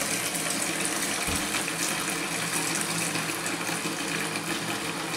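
Warm water runs steadily from a tap in a continuous, close, even gush with no talking.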